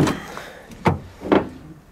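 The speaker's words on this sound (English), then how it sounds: "Here it is, the Toyota FJ Cruiser. Let's open it up." Door of a Toyota FJ Cruiser in a salvage yard, giving two short, moderately loud mechanical clunks about half a second apart over quiet background.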